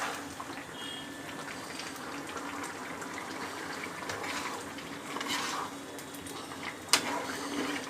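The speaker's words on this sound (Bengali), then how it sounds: "এবার আমি সামান্য একটু গরম জল দিয়ে দিই" Hot water poured into a pan of vegetarian papaya curry, making a soft, continuous rushing wash at moderate distance, with a slight swell near the end and a single sharp clink.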